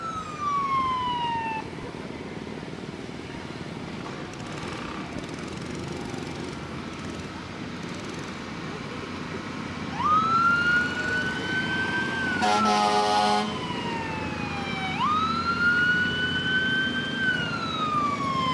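A fire truck siren wails in rising and falling sweeps during a fall foliage festival parade, starting and stopping several times at moderate distance over constant traffic and outdoor noise.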